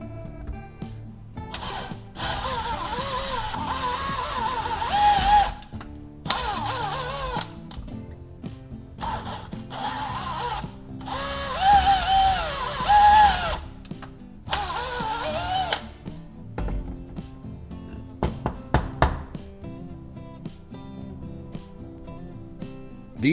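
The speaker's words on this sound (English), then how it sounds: "After drilling, I'll use a regular drill bit to puncture through both holes." A power drill whirs in several long bursts with pauses between, close by, followed by scattered clanks and handling noises near the end.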